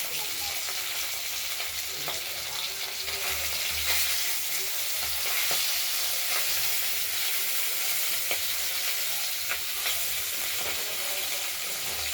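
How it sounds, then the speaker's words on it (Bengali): Pabda fish sizzles steadily in hot oil, a loud continuous crackling hiss with small pops throughout, close by and without talking. "মাছগুলোকে আমরা ভেজে নিচ্ছি।"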